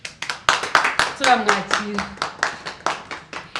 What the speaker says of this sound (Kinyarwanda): So tubiha amashyi